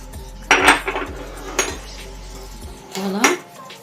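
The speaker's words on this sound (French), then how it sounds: "je vais mélanger le sucre vanillé avec le beurre" Utensil scraping and clinking against a bowl while vanilla sugar is mixed into softened butter, a few short bursts of clatter with pauses between, close and fairly loud.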